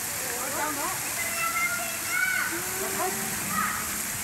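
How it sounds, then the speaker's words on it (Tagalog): Splashing fountain water runs steadily throughout, a broadband wash with a person speaking over it. "Dito yung fountain, oh."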